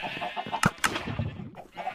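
Minecraft chickens clucking in a pen on a game server, a handful of short, close clucks and squawks in uneven bursts.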